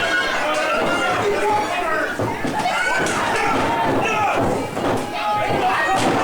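A wrestler slammed onto the mat with a face buster, a thud buried in a loud, busy crowd, while a commentator talks throughout.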